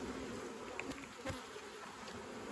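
Honey bees buzz faintly but steadily around an opened backyard beehive holding VSH virgin queens, with a continuous low drone and occasional individual bees passing closer.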